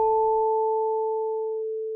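Two-operator FM synth tone on a Liven XFM: a clean, loud sustained pitch with a higher partial that drops out before the end, the main tone holding for about two seconds alone.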